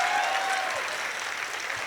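An audience at a Hindi poetry event clapping loudly together, a dense continuous patter of applause that fades slightly toward the end, with no talking.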